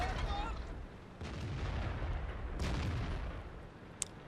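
Tank gun blasts from the World of Tanks game, with an M4A3E8 Fury Sherman in battle: low booming shots over a steady rumble, with a sharp crack near the end, under speech.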